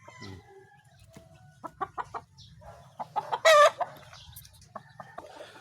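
A broodcock rooster clucks in short, separate bursts with a louder squawking call in the middle, close by over a low background rumble.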